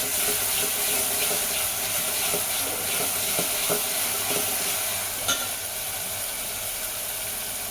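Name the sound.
sautéing green chili and garlic paste in a pan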